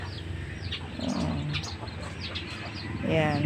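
Chickens cluck and chatter close by at feeding time, soft repeated calls over a steady background murmur while a person speaks briefly.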